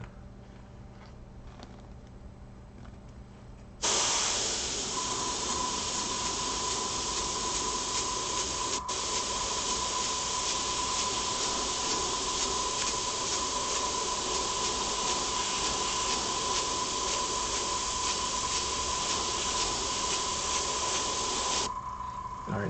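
A spray can hisses in one steady, unbroken burst for about eighteen seconds, painting a shoe through a stencil up close, preceded by a quiet room.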